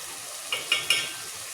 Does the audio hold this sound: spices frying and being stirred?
yes